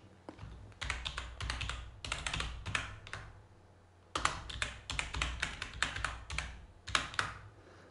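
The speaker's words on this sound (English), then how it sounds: "So click over here and type anything that you want." Typing on a computer keyboard in two bursts of rapid key clicks, close and clear, with a brief quiet gap in the middle and no talk.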